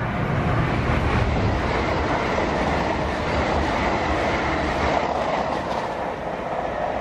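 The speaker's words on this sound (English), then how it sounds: "That's the Heathrow Express," A Heathrow Express passenger train roars past close by at Ealing Broadway, London, a continuous loud rumble of wheels on track lasting throughout.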